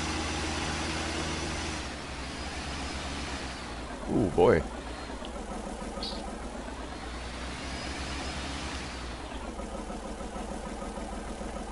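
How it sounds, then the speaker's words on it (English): A small tractor's engine labouring under a heavy load, a steady mid-pitched drone that briefly swells and strains, with a voice exclaiming over it. "That's pretty taxing on this little tractor"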